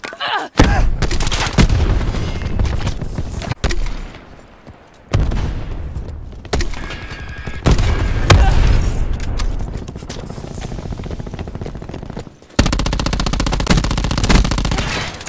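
An artillery strike in Call of Duty Black Ops 4 lands as a run of loud booming blasts and gunfire bursts, separated by brief near-silent gaps, with heavy rumbling impacts throughout.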